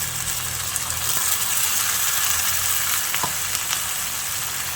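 Tomato paste goes into a frying mix of onion, ginger, garlic, coriander leaves and green chilli for aloo dum, sizzling with a steady close hiss, broken by a few sharp stirring clicks.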